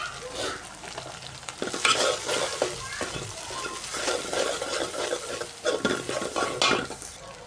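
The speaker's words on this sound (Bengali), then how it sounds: "তো সব কিছু দিয়ে মশলাগুলো ভালো করে কষাই নেব।" Spices with coriander powder are stirred and fried in a pan for a fish and sweet pumpkin curry. A spatula scrapes and clacks against the metal pan in an irregular rhythm over a constant close sizzle.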